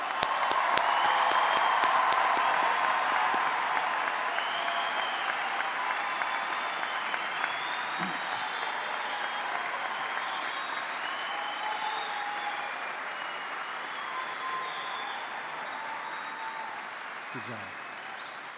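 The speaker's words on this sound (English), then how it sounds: "give this entire class one more rousing round of applause" A crowd at a McKinney Boyd High School graduation ceremony gives the graduating class long, sustained applause, broad and steady, slowly easing off, with a voice briefly calling out over it.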